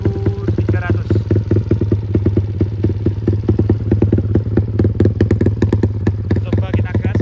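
A Yamaha MX motorcycle engine fitted with a barrel-style power ball throttle body and double injectors revs up from a rough, lumpy idle into loud, close throttle blips with a rapid, pulsing exhaust beat.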